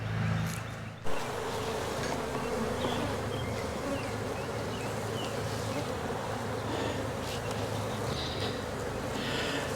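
Honey bees buzz steadily at a side-by-side two-queen beehive, a dense continuous hum of many insects close by, with a brief louder bump near the start.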